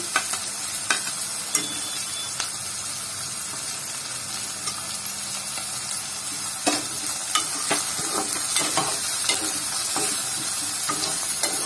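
Onions and green chillies sizzle and fry in a pan for chicken sukka, a continuous hiss broken by occasional scrapes and stirring clicks, close and without talk.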